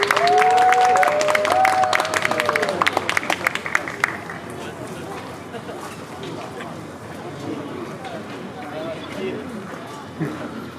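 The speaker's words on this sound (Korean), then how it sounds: "큰 박수로 맞아주세요." Outdoor festival audience claps loudly to welcome a band onstage, a burst of applause lasting about four seconds before fading out as people begin talking.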